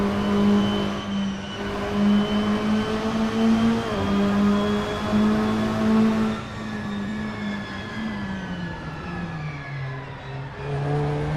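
Toyota S-FR race cars roaring in Assetto Corsa, a loud steady engine drone that shifts pitch as the cars change gear, with no talking.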